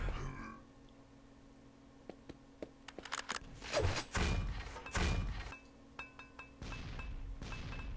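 Grenades bouncing and bursting in a Quake match at the ESL IEM Season 5 American Championship LAN finals: scattered dull thuds and thunks with a few metallic clinks, loud and irregular.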